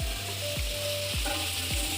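Food frying for pulao for a birthday meal, with a loud continuous sizzle and about four rhythmic scraping stirs of a spatula in the pan.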